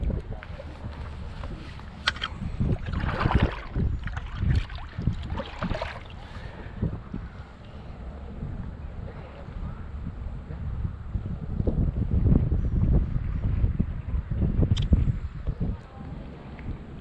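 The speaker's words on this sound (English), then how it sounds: "Very windy out today." Gusty wind buffets the microphone on a kayak trip down the Santa Fe River, in uneven rumbling bursts over splashes and knocks from the boat and paddle.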